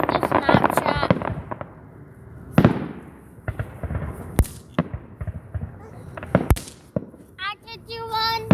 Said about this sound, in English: Maddie, look at the fireworks.